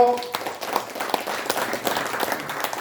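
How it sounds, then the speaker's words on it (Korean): Audience applause at a ceremony, a dense burst of clapping from a crowd that carries on for a few seconds, fairly loud and close, with a voice speaking over it. "여러 기념사업 회장님 중에서 가장 형이신 현광석 회장님께 다시 한번 큰 박수 부탁드립니다"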